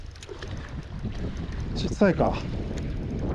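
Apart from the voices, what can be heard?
wind blowing at a seaside fishing spot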